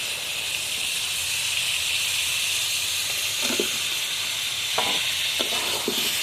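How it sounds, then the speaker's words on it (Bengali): Cut potatoes tumble into duck meat sautéing in a pan, giving a steady close hiss and sizzle broken by a few brief clattering stirs and scrapes toward the end. "এখন মাংসের মধ্যে আমি কেটে রাখা আলু দিয়ে দেব।"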